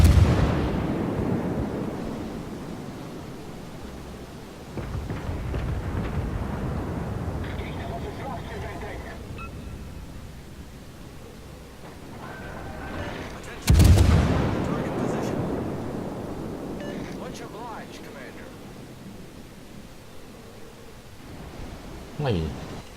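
Admiral Hipper cruiser guns firing in World of Warships: two heavy booming salvos a dozen seconds apart, each decaying into a long rumbling roar, with someone talking throughout.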